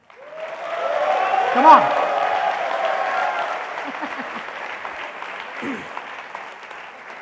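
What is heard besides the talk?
audience applause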